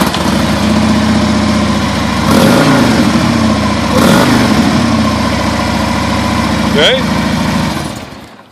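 A stock Harley-Davidson motorcycle engine idles with a deep, loping rumble, and the throttle is blipped into two short revs. A voice speaks briefly near the end.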